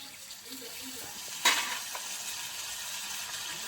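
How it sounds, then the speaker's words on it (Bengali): Taro (kochu) frying in a pan with potatoes for a fish-head curry gives a soft, steady sizzle. One brief sharp clink sounds partway through. "আর কচু ভাজতে আছে"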